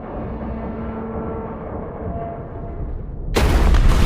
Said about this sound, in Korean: 거대한 폭발을 목격합니다.